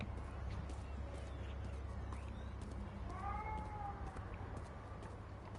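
A cat meows in the Spider-Man 2 video game, a short, faint rising-and-falling cry in the middle of a quiet game soundscape with light ambient noise and scattered clicks.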